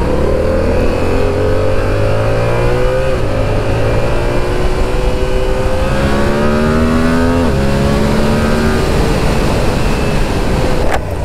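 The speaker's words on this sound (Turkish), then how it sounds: "Motor trafiği bu." Motorcycle engines idle and rev in slow, queued traffic on a humid road after rain along the Black Sea coast, a steady close drone with shifting pitch and no talking.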